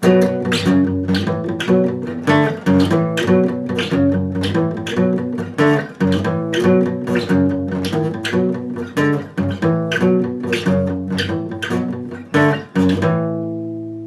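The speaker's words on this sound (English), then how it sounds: "Riff C played together and in roll speed 4 times will sound like this." Electric guitar plays riff C from the lesson for a song, repeated four times: a choppy, rhythmic pattern of power-chord stabs and short palm-muted notes, ending on a ringing chord that fades out.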